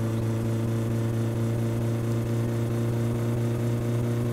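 A steady, loud engine drone from a car in the My Summer Car video game, the engine running hot and beginning to slow, with an even rumbling hum and no talking.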